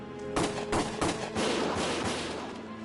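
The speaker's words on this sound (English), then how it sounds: "Gunfire!" Several sharp gunshots crack in quick succession in the video game Valkyria Chronicles Remastered, followed by a rattling burst of rapid fire, loud and close.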